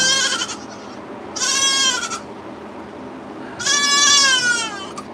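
A goat on a farm raising kids bleats three times, loud and close, with long wavering cries separated by short pauses over quiet background noise.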